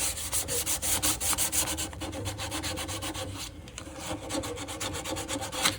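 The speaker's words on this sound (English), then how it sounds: "you can sand it lightly because we want everything to adhere to this." Sandpaper rubs over lacquer on a classical guitar's wooden headstock in quick, rhythmic back-and-forth strokes, close and distinct at first, then turning into a steadier, busier scrubbing with no talking.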